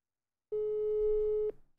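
A single steady electronic telephone tone holds for about one second, then cuts off abruptly, with faint low rumble in the background.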